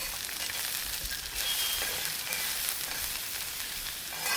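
Chopped onion and garlic sizzle softly and evenly in a clay pot for a barracuda tagine while being mixed, a close, continuous frying hiss without clear stirring strokes.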